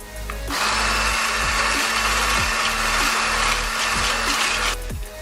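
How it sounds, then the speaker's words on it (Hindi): Eggs and baking soda beaten in a bowl for a basbousa semolina dessert, a steady loud whirring mixer-like drone running continuously for several seconds, close and alone. "और सबसे पहले हम ये अंडे डालेंगे इसमें। इसके साथ ये बीट करेंगे ऐसे।"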